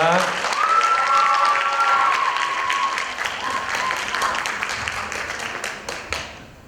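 An audience at a 2022 Korean speaking contest in Thailand applauds to welcome a university performing team, with loud, dense clapping and a few shouts that gradually fade toward the end.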